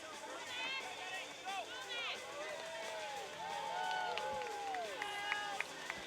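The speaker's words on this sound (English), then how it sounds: "Great to hear the cheering there on the sideline." Spectators cheering and whooping from the sideline at a BMX club winter series race, scattered shouts and high calls rising over a continuous crowd murmur, fairly distant and moderate in level.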